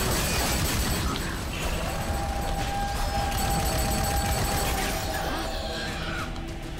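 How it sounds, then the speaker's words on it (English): A machine gun turret in the video game Too Human fires in a dense, continuous rattle of gunfire mixed with crashing impacts and mechanical noise, loud and sustained throughout. "here's our spiders, a freaking machine gun turret."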